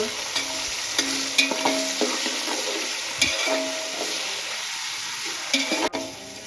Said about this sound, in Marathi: आता या स्टेजला टोमॅटो ॲड करून घ्यायचे तिथे आपल्याला टोमॅटो छान परतून घ्यायचे आहे मेल्ट होईपर्यंत